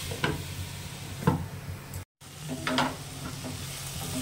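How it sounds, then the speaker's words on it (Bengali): Ash gourd frying in a pan, giving a soft continuous sizzle with a few stirring scrapes, close but fairly quiet, broken by a brief silent gap. "আমার চাল কুমড়োটা একদম এরকম ভাজা ভাজা হয়ে গেছে"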